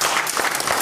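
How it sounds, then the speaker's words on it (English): Brief burst of hand clapping from a church congregation during a Sunday service, a dense wash of many hands heard close for under a second. "Give the Lord a hand clap."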